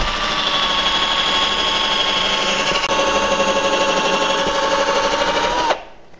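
A power drill whirs continuously for nearly six seconds making a pilot hole in drywall, close and loud with a steady motor whine, then cuts off abruptly.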